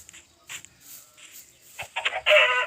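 A rooster crows loudly with a bright, synthetic tone after a few softer scattered clucks, sounding like a game sound effect.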